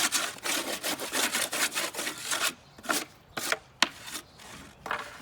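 Hand saw cutting a sheet of 7/16-inch wall sheeting to length while framing a rough opening; steady, close back-and-forth strokes at first, then slowing into a few separate, sharper strokes as the cut finishes, with no talking.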